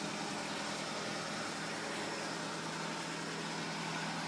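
A 1986 Suzuki Samurai convertible idles steadily with a smooth, even engine hum, close and continuous, with no talking over it.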